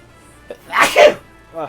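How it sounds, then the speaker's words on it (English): A single sharp sneeze, loud and close, with a brief breath before it and a soft sniff after. "sorry. I had to sneeze."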